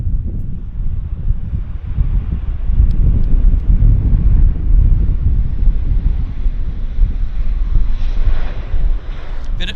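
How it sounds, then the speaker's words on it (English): Lufthansa Boeing 747-400 landing at Vancouver Airport, heard as a loud, steady low roar of jet engines that fills the whole stretch and stays continuous, with wind buffeting the microphone throughout. "I'd say that was a bit of a wonky landing"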